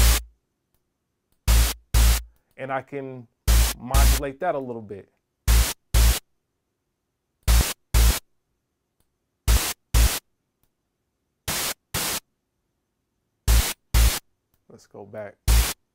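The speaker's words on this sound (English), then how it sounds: "I added white noise on top of this kick sound now." A synthesized kick drum with white noise layered on top, heard as repeated short, loud hiss-filled hits in an uneven pattern, with someone talking between some of the hits.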